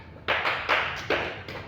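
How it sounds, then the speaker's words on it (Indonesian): Pupils in a classroom clap together in three sharp, loud, evenly spaced bursts, each followed by a short fade. "Tepuk tangan dulu untuk kalian semua."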